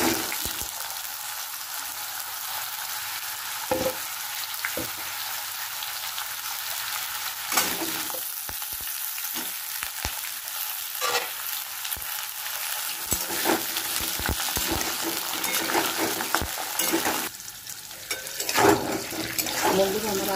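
Potatoes frying in oil with whole garam masala give a steady close sizzle, broken by repeated scraping and stirring clatters and a brief splash of water near the end.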